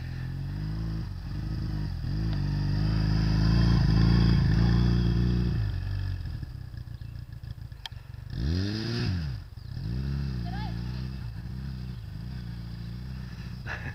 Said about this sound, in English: first day on a Honda Rebel motorcycle. She should be coming around the corner now.